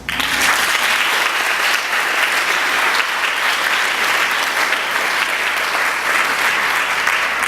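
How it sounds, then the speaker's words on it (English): Sustained, loud applause from a conference audience at an international women's management event on citizenship and diversity, a steady dense wash of clapping that holds evenly for several seconds with no voices over it. "Please give them a hand of applause."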